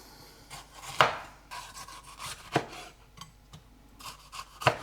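A kitchen knife chops a bell pepper into cubes on a cutting board, giving a few crisp, close knocks spread irregularly between quieter scraping and slicing sounds.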